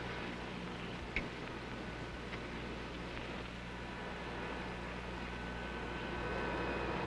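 Broadband aircraft engine noise from a 1953 airliner holds steady throughout as engine number 3 is started on the ground, a constant roar with low hum and a brief click near the start.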